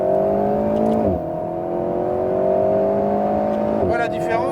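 An Alpine A110 S on the Le Mans Maison Blanche circuit, recorded inboard, accelerating steadily with a strong rising engine drone that shifts gear near the start, under continuous talk from an instructor.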